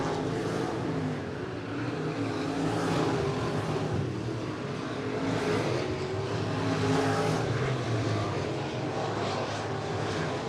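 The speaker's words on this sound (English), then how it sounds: "Jimmy Schramm will win heat race number 2 for the Friesen Performance IMCA Modifieds" IMCA Modified race cars roar around a speedway oval at night, a continuous engine drone rising and falling in waves as cars pass, steady and fairly loud with no talk.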